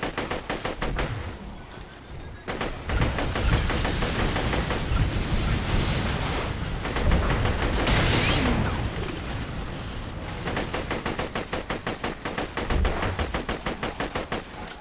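Rapid automatic gunfire from the Hot Kitten gun in Borderlands 2, loud bursts of fast repeated shots broken by short pauses, with explosive booms in the middle stretch.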